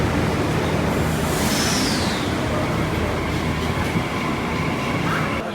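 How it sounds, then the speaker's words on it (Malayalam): Train at a busy railway station platform, a steady loud rumble with a brief high hiss or squeal near the start and continuous background noise, without talk. "നമ്മൾ റെയിൽവേ സ്റ്റേഷനിലെത്തി"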